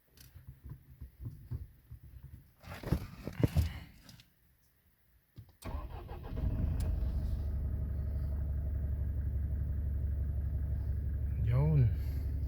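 A 2023 Mitsubishi Strada GLS Triton with a 2.4 diesel engine and manual 4x4 cranks and fires about halfway through, after some handling noises and a quiet gap, then settles into a loud, steady, low diesel idle.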